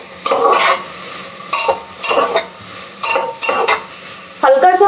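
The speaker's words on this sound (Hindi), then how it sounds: "हल्का सा फ्राई होगा" Carrots and potatoes frying in a pan while being stirred, with repeated scraping strokes over a steady sizzle, close and fairly loud, no talking.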